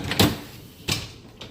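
A dishwasher's top rack is pulled out, producing a few short plastic-and-metal clunks and rattling slides, close and distinct, with no talk.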